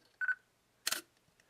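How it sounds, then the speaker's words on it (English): Quiet Nikon V1 camera, heard up close: a short electronic beep followed by a single soft, smooth mechanical shutter release, then near silence. "It's very quiet, very smooth, quieter than a Leica M9 shutter."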